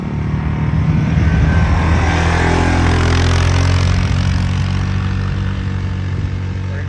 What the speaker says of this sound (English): She's going to drive my four-wheeler down to the shed.